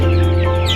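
Chickens and chicks on a poultry farm give loud, close clucks and peeping calls in a brief burst.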